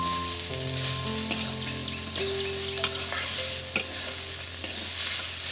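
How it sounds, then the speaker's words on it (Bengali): Fried bitter gourd and potatoes stirred in a pan, a continuous sizzle under repeated scraping strokes and a few sharp spatula knocks against the metal, with no voices. "সেটাও দিয়ে দিচ্ছি বন্ধুরা দেখুন দিয়ে একটু নেড়ে চেড়ে দেবো"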